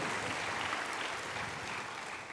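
A church congregation claps during a Christmas sermon, soft, distant-sounding applause spreading evenly through the hall for a couple of seconds, quiet and unaccompanied by speech.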